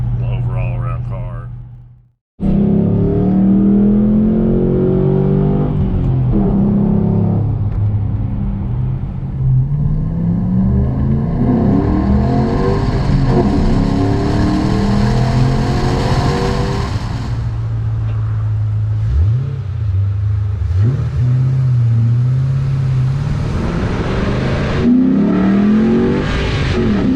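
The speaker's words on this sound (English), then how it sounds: "They came with a little different exhaust, but this has actually got, I believe it's MagnaFlow on it" A 2007 Shelby GT Ford Mustang with a MagnaFlow exhaust rumbles loudly from the inside, its engine repeatedly revving up and settling back in rising and falling sweeps while people talk over it.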